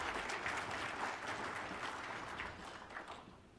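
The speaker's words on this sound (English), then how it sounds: "Give him a round of applause for that great presentation." A conference audience applauds a presenter with steady, dense clapping that starts full and gradually thins and fades toward the end, heard alone without talk.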